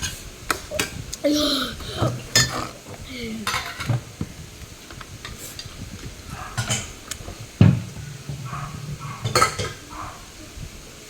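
Dishes and cutlery clink and clatter as they are set down in a kitchen sink, with scattered sharp metallic taps and scrapes, a few louder knocks and faint voices in the background.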